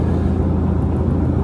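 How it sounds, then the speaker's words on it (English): Overhead ceiling fan giving off a steady low vibrating rumble, a dense continuous drone close by with no pauses or talking. "it's a ceiling fan above my head, and it makes this vibrating, rumbling noise."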